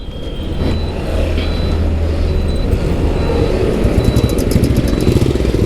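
A Royal Enfield Bullet motorcycle engine thumps loud and close on a test ride, a dense low rumble that holds steady and then roughens as it revs a little.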